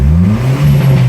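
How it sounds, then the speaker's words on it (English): A turbocharged minivan engine revs up close and loud, a low throaty drone whose pitch climbs and dips over about a second. "Watch if I rev it."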